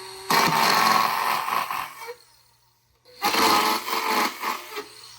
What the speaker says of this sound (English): We're just gonna cut a bunch of notches.